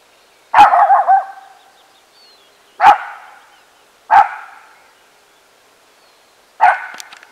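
A dog barks four times outdoors, sharp, fairly close barks spaced a second or two apart, the first a quick double or triple burst, with quiet gaps between.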